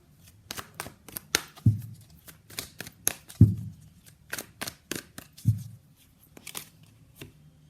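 Tarot cards shuffled and pulled by hand, a run of crisp, close riffling snaps and soft slaps in an uneven rhythm, with a few heavier thumps as cards are set down.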